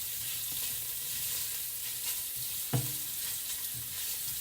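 Lightly seasoned sausage frying in a pan, giving an even sizzle with soft stirring scrapes and one distinct thump near the middle, heard close with no voices.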